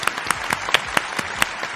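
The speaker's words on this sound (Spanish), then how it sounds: "Otro aplauso." Sparse, separate claps from a small group cheering an award win at an informal online game awards show, about eight distinct hits spread unevenly over two seconds, fairly close and moderately loud with no talking.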